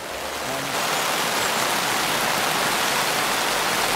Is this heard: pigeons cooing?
no